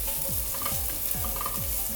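Carrot with chili powder and a pinch of turmeric being stirred in a hot pan for masala oats, a steady sizzle with repeated rhythmic scraping strokes of the spoon, close and continuous, no talk.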